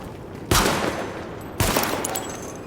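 Gunfire aimed at highlighted targets during a weapon test in the video game Tom Clancy's The Division: two loud, sharp bursts about a second apart, each trailing off into a decaying rumble.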